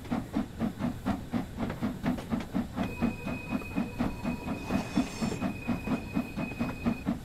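A freight train in the Train Sim World 3 simulator rolls past with a steady rhythmic chugging and clatter, overlaid by a hissing steam whistle-like tone midway, continuous and fairly close without voices.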